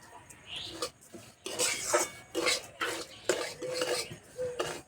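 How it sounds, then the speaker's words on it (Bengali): Dry semolina is roasted in a pan, stirred with a spoon that scrapes and clinks against the metal in a series of short bursts with pauses between. "সুজি হালকা একটু লাল লাল করে ভেজে নেব।"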